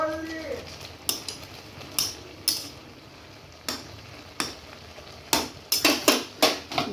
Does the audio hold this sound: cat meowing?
no